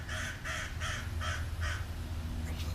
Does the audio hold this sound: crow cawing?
yes